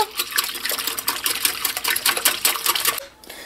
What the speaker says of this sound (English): Now I'm going to add in 2 eggs. And I'm just going to whisk that in to break it up.